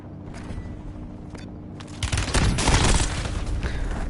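A loud, rapid burst of automatic gunfire in Call of Duty: Warzone erupts after quieter game ambience and scattered shots, continuing as a sustained close fusillade.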